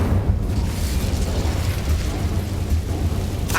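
A fiery blast from the Incendio spell in the Hogwarts Legacy video game erupts as a loud, sustained booming roar lasting several seconds, with no talking over it.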